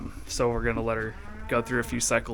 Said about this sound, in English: if you guys hear her losing her mind in the background, she is not a loud cow unless she's in heat